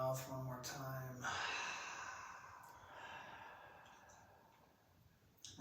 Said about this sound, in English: breathing all the way out of an open mouth one more time